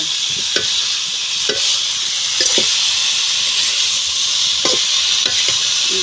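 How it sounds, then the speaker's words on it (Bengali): Spice masala and cabbage being fried in a pan, a loud steady steamy sizzle with periodic spatula scrapes against the pan every second or so; no speech. "যে আমার মশলাটা কষানো হবে"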